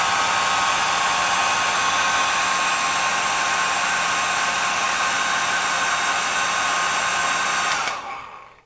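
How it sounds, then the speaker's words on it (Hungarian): A hair dryer of about 1200 W runs steadily from a 2500W Vevor pure sine 12V-to-230V inverter in a camper, a loud constant whoosh with motor whine that cuts off near the end. "Ahogy mutattam, például a hajszárítót használtuk"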